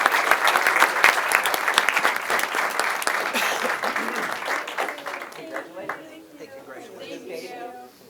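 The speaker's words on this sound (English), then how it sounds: "how about one big round of applause for them as well?" Audience at a school board meeting gives a round of applause with sharp, distinct claps at first that gradually taper off, leaving faint voices talking underneath as the clapping fades.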